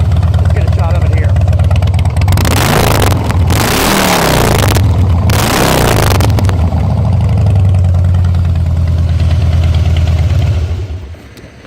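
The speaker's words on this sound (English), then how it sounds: "we might as well crank her up. Oh, nothing like that Harley V-twin." A 2007 Harley-Davidson Softail Custom V-twin motorcycle engine is started and revved, rumbling loudly and close with a deep idle and sharp rev bursts, while a voice talks over it.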